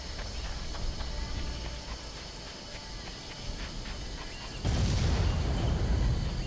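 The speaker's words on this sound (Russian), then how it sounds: "Вот смотри, взрывы." Explosions in the video game Far Cry: steady gameplay noise gives way to a sudden louder, deep rumbling blast that keeps booming through the final couple of seconds.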